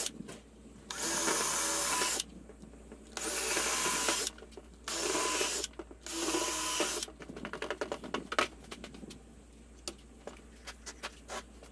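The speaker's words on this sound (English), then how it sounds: "I will just drill through those marks that I put" A power drill bores through wood with a bit slightly smaller than the wood screws, four separate whirring bursts of about a second each, followed by scattered light taps and clicks; close and fairly loud, with no voices.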